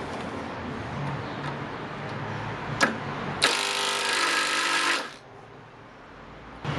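Makita impact driver, a small Japanese model, drives a screw into a knot in wood, giving a loud, dense rattling burst of about a second and a half after a sharp click, then stopping. No talk is heard.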